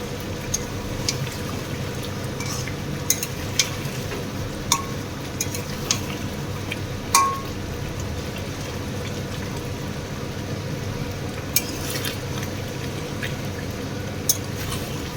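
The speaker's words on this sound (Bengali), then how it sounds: "এই যে মশলাটা দিয়ে আবার কষবো" Meat being sautéed with spices in a pan, a steady soft sizzle with occasional sharp clicks and scrapes of a spoon stirring. It is fairly close and continuous, with no talking.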